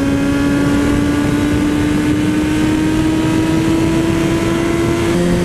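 A Honda CBR600RR or Suzuki GSX-R600 sport motorcycle pulling hard from a standstill, its engine a loud, continuous high whine that climbs slowly and steadily in pitch, close up with no talking.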